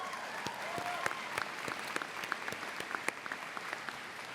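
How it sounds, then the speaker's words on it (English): An audience at a college commencement ceremony claps steadily, a dense patter of many hands heard from a distance, fairly faint and unbroken, honouring graduating military veterans. "Please join me in applauding them one more time regarding their accomplishments as well as their service to our country"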